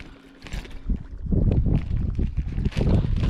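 Wind gusts over open sea around a Hobie Revolution 13 kayak off Hawaii while fishing, a steady rushing roar that swells louder after the first second and buffets the microphone, with faint water wash underneath.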